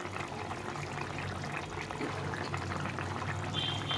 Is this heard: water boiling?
yes